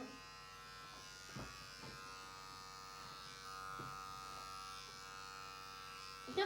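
An electric shaver buzzes steadily and close while trimming the hair on a man's neck in a home haircut, with a few brief louder bumps as the blade moves across the skin.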